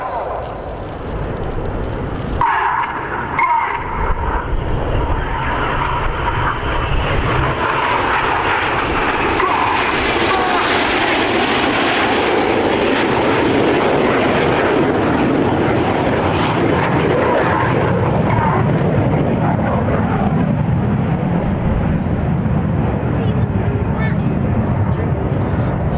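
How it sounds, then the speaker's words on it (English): Red Arrows jet aircraft fly a formation aerobatic display with barrel rolls at an air show, and their engines give a loud continuous roar that swells and drifts across the sky. "The inside pilots perform tight matched barrel rolls to the outside of the formation as they fire the rollbacks."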